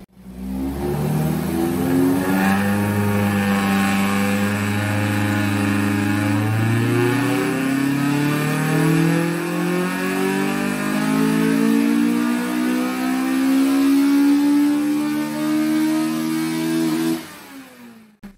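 A Honda Type R engine, the DC5 Integra Type R unit making 220 horsepower with an 8,400 rpm redline, revs loudly and steadily climbs in pitch for about seventeen seconds before cutting off abruptly.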